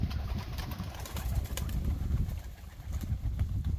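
Pigeons in coops at a lakeside village house coo softly and repeatedly in low murmurs, including white pigeons on the ground, with faint rustling and a few light taps nearby.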